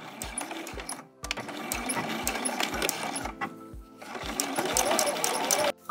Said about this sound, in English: I'm going to sew with a 1/2 inch seam allowance